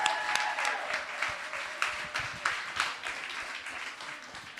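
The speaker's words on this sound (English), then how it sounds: "I think that deserves another round of applause." Audience applause at a live entertainment show, a burst of clapping with a few whoops rising and falling across the clip, fairly close and full, with no talk over it.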